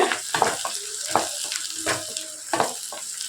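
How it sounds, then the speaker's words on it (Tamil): Chopped garlic sautéing in oil for a spicy brinjal masala kuzhambu, a steady close sizzle broken by repeated scraping stirs with a spatula in the pan. "ஒரு ரெண்டு நிமிஷம் நல்லா வதங்கட்டும் பூண்டு பாருங்க பூண்டும் நல்லா எண்ணெயில் வதங்கிருச்சு"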